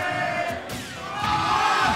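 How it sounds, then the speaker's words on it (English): Spectators at an esports Super Smash Bros. tournament match, Falco against ROB, chant and roar as a loud, sustained crowd swell that builds and stays dense throughout. "You hear the crowd, though. You hear the chanting."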